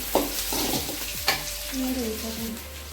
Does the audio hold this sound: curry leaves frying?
yes